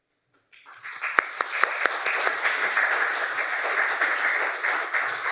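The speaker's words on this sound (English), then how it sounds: "It's very nice to get a clap before you've even said anything." An audience at the StuCAN Entanglement Festival launch evening, hosted by an art school, breaks into sudden applause that builds and continues as steady, full clapping with a few sharp claps standing out near the start.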